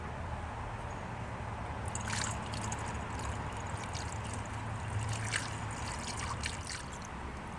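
A steady, quiet trickle of undiluted engine coolant being poured into a BMW 4 Series reservoir, a continuous soft gurgling stream that runs throughout.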